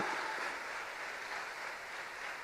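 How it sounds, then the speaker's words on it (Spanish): A church congregation applauds during a sermon, a soft, even wash of many hands clapping at a distance that holds steady before easing slightly. "yo daría un aplauso más grande ahí"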